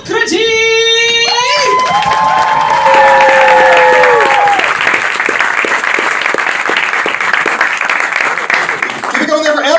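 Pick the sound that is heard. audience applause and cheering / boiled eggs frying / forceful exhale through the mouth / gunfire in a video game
audience applause and cheering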